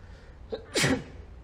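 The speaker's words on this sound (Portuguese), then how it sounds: "Vou espirrar." A single sneeze indoors: a small intake breath, then a sharp, loud burst that is over within a second, with no talk around it.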